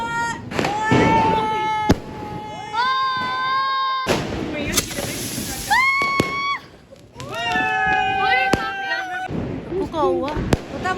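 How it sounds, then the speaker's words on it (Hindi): Sky shot fireworks are set off during Diwali celebrations, with sharp pops and bangs alongside rising whistles and crackles through the stretch, while people talk and children's voices rise over the noise. "हम फोड़ेंगे स्काई शॉट अपने"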